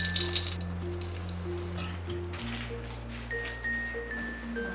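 Lazy chebureki made from wafer sheets fry in a pan with a low, soft sizzle and scattered crackles. A louder burst comes at the start, then the frying settles under steady background music.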